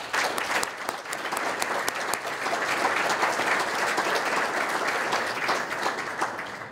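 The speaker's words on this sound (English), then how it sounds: "please give yourselves a round of applause" A room full of people at a softball Hall of Fame ceremony applauds, steady dense clapping with some sharper individual claps standing out, continuing evenly throughout.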